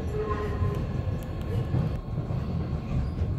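A train rolls past close by with a loud, steady rumble and rattling wagons, faint metallic squeals riding on top, filling the whole short stretch without a break.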